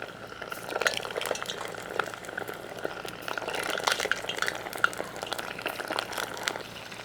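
Alligator pieces being lowered into hot oil for karaage-style deep frying in a backyard setting, producing a busy, moderately quiet bubbling sizzle full of small irregular pops.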